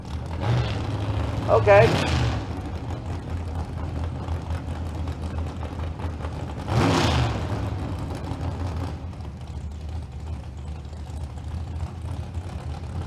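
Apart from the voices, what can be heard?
drag racing cars, Chevy and Camaro, at Famoso Dragstrip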